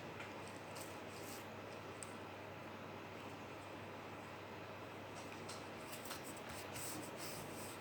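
A glue stick rubs back and forth across paper in a faint, steady scraping texture, close and quiet, with no voices.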